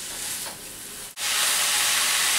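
Cabbage stir-fried with pancit canton noodles gives a steady loud hiss and sizzle, broken by a brief dip as the pan is stirred, then resuming even stronger and continuous.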